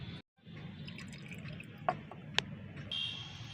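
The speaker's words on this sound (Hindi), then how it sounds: "इस पानी को मैं छान लूँगी" A water and cow dung compost mixture, also steeped with cinnamon, is strained, giving a faint, steady trickling wash with a few distinct drips near the end.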